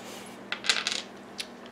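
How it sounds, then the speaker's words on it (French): Two dice tossed during a solo tabletop session of a Terminator Genisys board game, giving a few quick light clicks and rattles on a hard surface, close and fairly faint. "il lance 2 dés"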